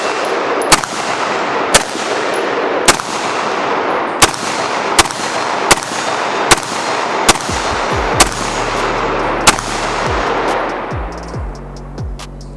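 A Master of Arms Enyo AR-15 rifle fires nine sharp, evenly spaced shots in slow semi-automatic rhythm, loud and close, each followed by a ringing outdoor echo, with a final clatter of brass or handling at the end.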